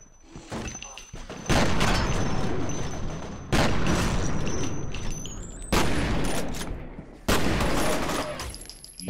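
Shotgun fired in the first-person shooter F.E.A.R., four heavy booming blasts spaced about two seconds apart, each loud and close with a long decaying tail.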